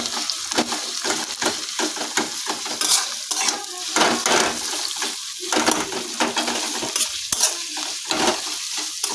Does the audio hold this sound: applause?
no